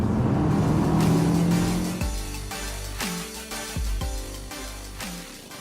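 Kia Soul GT with a 1.6-litre turbo engine accelerating hard on a freeway, engine note climbing steadily through several upshifts, loud and continuous from inside the car with road noise beneath.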